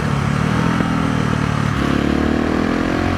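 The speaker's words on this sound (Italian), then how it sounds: "mi sembra che la moto abbia un sound migliore in mappatura 1" A two-stroke motorcycle engine running on map 1, a loud close buzzing drone with a brief dip and shift in pitch midway, steady with no voices.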